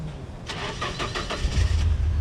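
A 2.4L engine in a 1991 Nissan 240SX cranks over with a rapid, even run of starter-driven compression pulses. The sound is close and loud, with a low rumble building toward the end.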